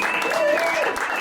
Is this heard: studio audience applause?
yes